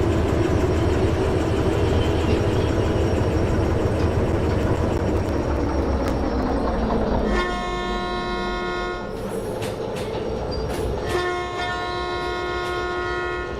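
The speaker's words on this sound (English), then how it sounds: "I like the sound of this motor." A locomotive in the train simulation game Derail Valley, with a steady rumbling engine drone at first, then a sustained multi-tone horn blast and a second horn sounding over the running motor.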